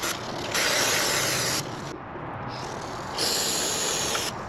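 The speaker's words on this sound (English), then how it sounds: "I'm going to go ahead and hit the discs with some brake cleaner" Brake cleaner sprayed onto the brake discs of a worn Suzuki GSX-R sport motorcycle: two sustained, close hissing aerosol bursts, each about a second long, separated by a short pause with quieter rubbing and handling noise.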